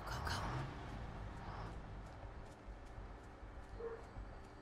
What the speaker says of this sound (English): Doggy, no bark.